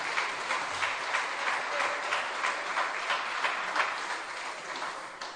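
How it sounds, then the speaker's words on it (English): An audience at a benevolent society awards ceremony applauds a relay team, with dense, sustained clapping that holds steady throughout. "So let's give them a round of applause."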